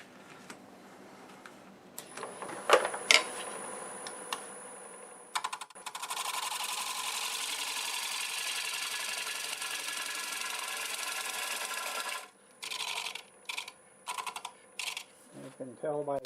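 A wood lathe turns a thin bowl of green walnut against a tool, with a steady, loud hissing cut running several seconds before breaking into short intermittent bursts, with a few clicks and knocks before it.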